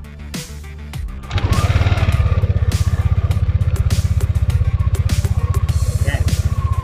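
A Yamaha Aerox S scooter engine cranks via its knob-start keyless ignition and catches after a second, then settles into a loud, steady, throbbing idle close by.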